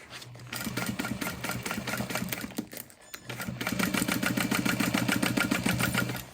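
A sewing machine runs in steady rapid bursts along a seam for a bag, with a short pause midway as it back stitches before continuing, close and fairly loud.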